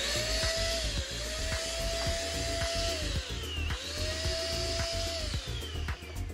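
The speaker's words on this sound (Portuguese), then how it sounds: "utilizar essa parte do motor como um soprador para secar já aqui o material" The motor of an electric paint spray gun, used as a blower to dry material, runs with a steady high whine and airy hiss, close and continuous, with its pitch rising and falling slightly several times.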